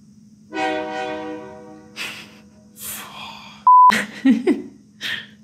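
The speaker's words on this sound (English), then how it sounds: "That was a train?" A train horn at a train depot sounds once, sharp and sudden amid quiet night surroundings, following a voice at the start and brief murmurs afterward.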